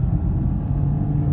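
Maruti Suzuki Swift Dzire VXi running on CNG pulling away in second gear at low speed, a steady close engine rumble with no voices over it.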